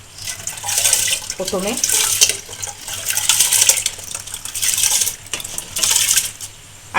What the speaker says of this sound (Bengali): প্রথমে গরম জল বসিয়ে দিয়েছি হাঁড়িতে, আর এই চাল ডালটা আমি একসাথে দিয়ে দিচ্ছি।